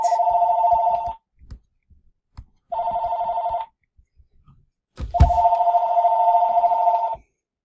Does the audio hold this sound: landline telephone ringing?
yes